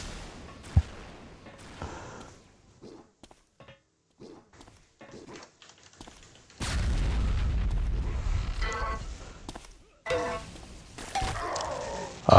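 Lightning gun and shock rifle fire in an Unreal Tournament 2004 duel, sharp scattered shots and zaps followed by a long loud sustained blast and more bursts, all close and punchy.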